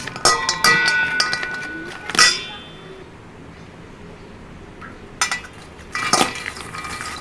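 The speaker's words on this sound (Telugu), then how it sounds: "ఇప్పుడు కలిపేసుకోవాలి" Snacks of fox nuts (makhana) and cashew pieces are stirred in a bowl, giving a few bright metallic clinks and scrapes in short bursts separated by quiet gaps.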